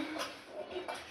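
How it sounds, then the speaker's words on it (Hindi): Pots, pans and utensils being scrubbed and washed by hand at a home sink, with soft clinks and scraping of metal dishes repeating through a quiet, steady background. "देखो फिर मैं बर्तन माज रहे हैं"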